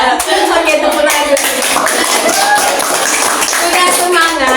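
Children in a community reading-garden activity clap the rhythmic 'tepuk semangat' cheer, quick patterned hand claps close by, mixed with young voices chattering throughout.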